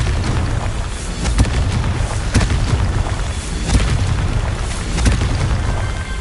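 Explosion from a Confringo spell in Hogwarts Legacy on PS5, set in the Goblin Mines: deep booming blasts with rumbling low end and several sharp bursts at irregular intervals, loud and close, with no speech.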